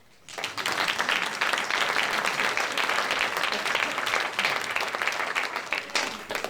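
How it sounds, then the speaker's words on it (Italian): A theatre audience at a youth amateur drama performance breaks into steady, full applause after a brief quiet start, sustained clapping from many hands throughout. "Un applauso."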